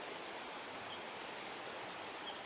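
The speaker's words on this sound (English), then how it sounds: "There's a little creek." A small creek runs at a Grand Canyon campsite, its steady broadband rush of flowing water even and unbroken, soft and close with no voices.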